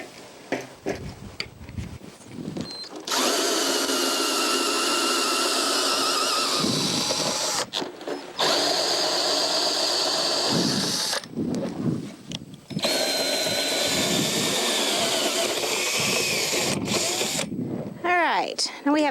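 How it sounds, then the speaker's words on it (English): A power drill with a 3-inch hole saw bit cuts into pipe in long, loud, sustained whining runs broken by short pauses, with brief mechanical clicks between cuts. "We're going to actually drill 3 evenly spaced 3-inch holes in this pipe."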